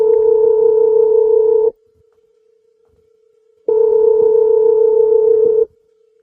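Phone call going unanswered: two long, loud ringback tones about two seconds each, separated by a two-second gap with a faint steady hum.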